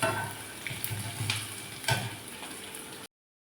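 Onion, chickpeas and mustard seeds fry in hot oil with a steady, close crackling sizzle, brief stirring scrapes breaking through, before the sound cuts out abruptly.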